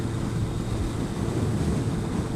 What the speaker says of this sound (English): Blimey, it's windy